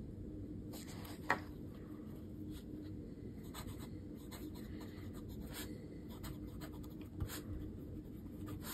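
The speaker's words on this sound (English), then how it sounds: "I'm noticing that my pen is skipping." Pen writing on thin Logical Air Japanese notebook paper gives a very faint, close scratching of short strokes, with a couple of light taps and no talking.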